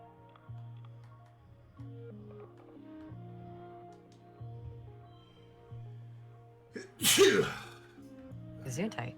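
A sharp, fairly loud sneeze cuts through soft, repeating game music, followed moments later by a second shorter burst, while playing I Was a Teenage Exocolonist.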